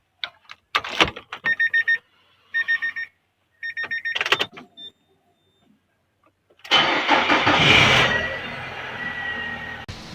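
A car's starter cranks in several short bursts with a warning chime between them, then the engine catches and runs with a rough, uneven roar. The car has low battery trouble.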